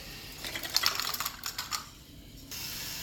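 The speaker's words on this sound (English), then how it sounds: "The little regulator wheel here is letting 1 ball every 5 seconds get fed into the machine." A K'Nex ball machine's regulator wheel and gearbox clatter nearby with rapid ratcheting clicks, then the mechanism settles into a softer steady mechanical hum.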